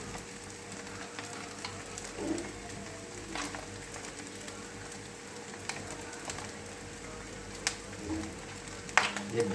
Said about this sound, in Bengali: তারপরে দেশি ঘি, এটা পরিমাণ মতো দিয়ে দেবো